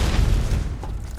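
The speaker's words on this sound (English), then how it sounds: "What's with all the damn explosions?" Explosions in the video game Ark Primal Nemesis produce a brief, heavy low boom with a rumbling tail that fades over about a second.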